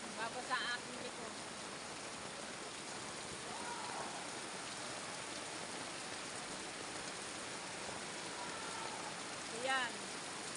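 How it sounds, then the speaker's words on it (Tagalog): Rain falls steadily in a soft, even hiss, faint and constant, with a couple of brief voices breaking through at the start and near the end. "Unti-unti din naman na umihina ang ulan"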